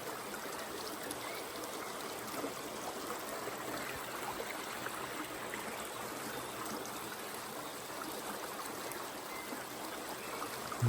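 A small village river in rural Belarus streams steadily over stones, a dense, even rushing wash that holds at the same level throughout with no voices.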